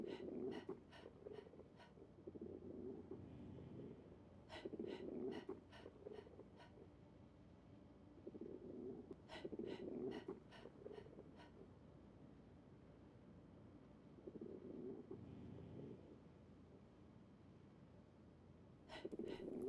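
Men panting in Pierre's Adventure, a soft, repeating cycle of breathy gasps and exhalations at low volume, recurring in regular clusters with faint clicks over quiet background noise.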